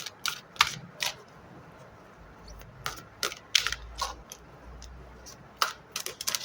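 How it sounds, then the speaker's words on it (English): Oversized oracle cards are shuffled by hand, a string of crisp slaps and clicking snaps in irregular bursts, close and fairly loud against a quiet background. "All right, three more shuffles."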